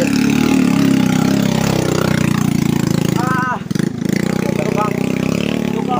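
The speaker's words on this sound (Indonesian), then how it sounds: "Nih teman-teman, ada motor lagi." A motorcycle engine on a winding mountain trail runs loud and close with a steady mid-pitched drone, briefly dipping and revving around the middle before settling again, alone without talk.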